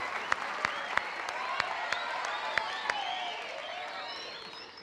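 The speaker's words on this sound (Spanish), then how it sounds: "¡Un aplauso para ella!" A crowd applauds steadily for a few seconds, a dense wash of clapping with a few sharper individual claps standing out.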